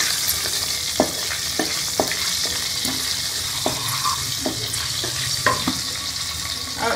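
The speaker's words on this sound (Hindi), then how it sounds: "इसके अंदर ये कलंजी डालूंगी एक चम्मच, इसको एक मिनट के लिए इसे फ्राई कर लेंगे।" Kalonji seeds fry in hot ghee in a kadai with a loud, dense sizzle, while a spoon clinks and scrapes against the pan at a slow, irregular pace.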